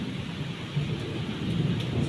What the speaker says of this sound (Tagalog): pumutunog yung kulog.